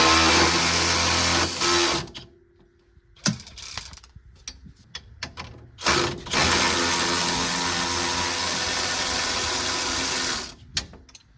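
Ratchet wrench loosening a sway bar link nut on a Can-Am Defender utility vehicle, long bursts of rapid mechanical clicking broken by short pauses and scattered knocks, close up.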